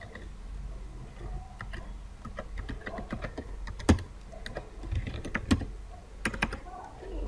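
Keys clack steadily as a Python script is typed on a computer keyboard, a busy run of close, irregular taps with a few louder strokes, alone without talk.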